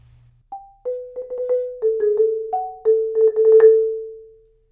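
A short snare drum passage of rolled notes, each roll stopping cleanly on the tied note, with small gaps between phrases.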